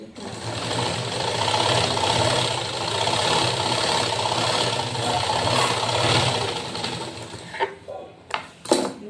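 A sewing machine stitches a lined blouse, running in a steady, close mechanical whir for several seconds before stopping, followed by a few short knocks and handling sounds.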